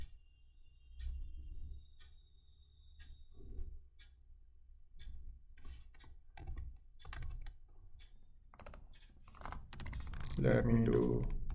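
Typing on a computer keyboard to enter a password, a run of soft, uneven key clicks that are close and moderately quiet, with breathing and brief voice sounds toward the end.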